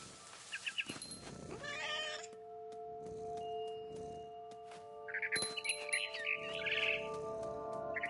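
A cat meows several times in What Remains of Edith Finch, short cries over a sustained tonal game soundscape, with bird chirps also rising in the latter half.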